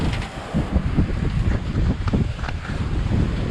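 Strong wind at sea, roaring and buffeting steadily against the microphone aboard a boat, with rushing water beneath, loud and continuous throughout.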